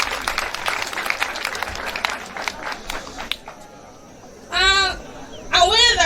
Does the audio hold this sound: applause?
yes